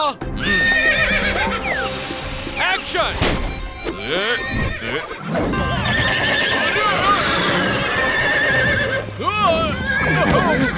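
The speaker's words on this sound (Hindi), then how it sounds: "अरे इस घोड़े को रोको।" A cartoon horse neighs and whinnies repeatedly over clip-clopping hooves, loud and close amid busy comic commotion, with a voice calling out in Hindi partway through.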